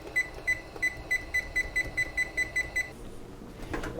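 A kitchen timer beeps in a quick regular series of about twelve bright, evenly spaced chirps, then stops, leaving faint room noise while a pot roast simmers on the stove top.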